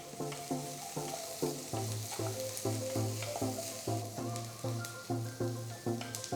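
Crushed ginger-garlic sizzles with browned onions and green chilies in a pan, with steady frying hiss under rhythmic, repeated spoon strokes against the pan, close up and without talking.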